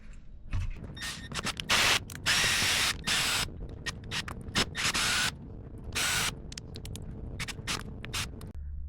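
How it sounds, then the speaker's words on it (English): Four screws on the underside holding a rear skid plate are backed out, with short bursts of whirring and scraping separated by quieter handling noises, close up and with no talk. "we're gonna start by taking these 4 screws on the bottom that hold the rear skid plate on"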